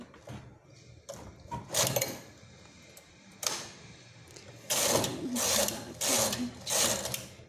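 A knitting machine carriage slides across rows of woolen stitches in short, rattling runs, each pass a loud mechanical clatter separated by pauses and lighter clicks, heard up close.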